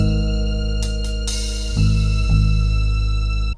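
Phonk beat sample from a loop pack plays alone: sustained, dense melodic layers over a deep low end, with a couple of brief accents and a slight swell before it cuts off abruptly.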